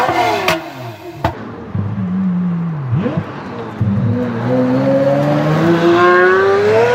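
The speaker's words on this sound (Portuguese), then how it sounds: "Um comentarista da Top Gear descreveu o Zonda como parecendo uma divisão de tanques gargarejando arame farpado." A Pagani Zonda engine roars nearby, revving down and up again with a rising, rasping pitch, plus a couple of sharp clicks at the start.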